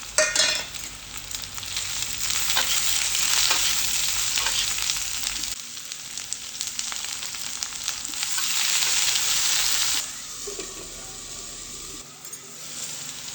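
Onion, potato and eggplant fry in a pan, giving a continuous loud sizzle with stirring scrapes. The sizzle briefly drops around the midpoint and again near the end.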